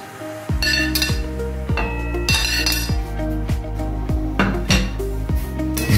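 A spoon stirs amla pieces in sugar syrup in a metal pot, with repeated clinks and scrapes against the pot in a steady rhythm, close and fairly loud.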